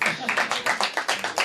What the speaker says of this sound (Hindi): कौन कौन है एक बार ताली बजा के ज़रा बताएं